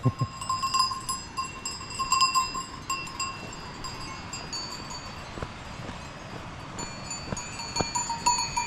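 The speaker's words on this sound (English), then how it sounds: "Hey goats." Goats in the mountains along the Tour du Mont Blanc, with scattered cowbells clanking at varying distances and occasional bleats over a quiet outdoor background.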